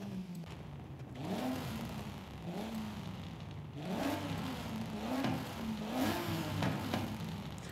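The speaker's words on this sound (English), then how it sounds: "let's go ahead and listen to the exhaust and see which one we like the most" Engine revs rise and fall repeatedly, a synthetic-sounding BMW E46 M3 exhaust in Forza Horizon 5 climbing in pitch several times in steady cycles, moderately loud with no talking.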